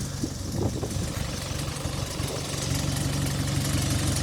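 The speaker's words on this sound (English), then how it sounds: "4-cylinder Cummins engine is driven through an Allison automatic gearbox" A 2013 ADL Enviro 200 bus with a 4-cylinder Cummins engine and Allison automatic gearbox idles steadily nearby, a low continuous rumble with no voices.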